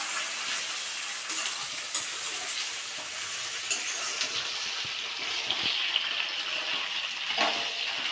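Dried red chillies frying in hot oil in a pan while pudina pachadi is being made, a loud steady hiss and crackle with soft stirring scrapes, no talking.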